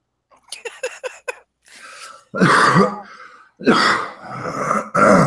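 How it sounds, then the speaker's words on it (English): A person coughs and clears their throat repeatedly up close: a rapid string of small hacks, then several heavy, rasping coughs. "Pardon me while I finish my coughing fit."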